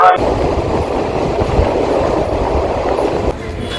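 A train rumbles steadily at Varanasi Junction station with a dense, even roar of wheels and carriages nearby. Some voices can be heard in the background.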